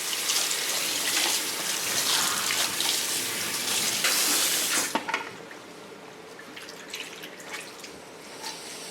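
Tap water gushes loudly at a sink while curly hair is rinsed out, a full, hissing splash that cuts off abruptly midway, leaving faint drips and small handling sounds.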